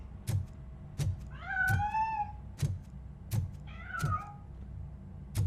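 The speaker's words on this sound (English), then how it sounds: "That cat must be hiding inside." In the Robocop Rogue City video game, a cat hiding in a piano lets out two drawn-out meows, set between regular heavy thuds.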